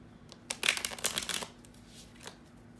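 Oracle deck cards being shuffled by hand, a quick burst of riffling and flicking over about a second, followed by a few faint card taps in a quiet room.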